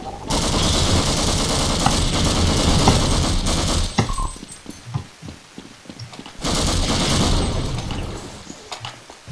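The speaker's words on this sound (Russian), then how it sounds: "Ну откуда опять стреляют?" Rapid automatic gunfire in a first-person shooter rattles in two long, loud sustained bursts separated by a few seconds of scattered shots and quieter game noise.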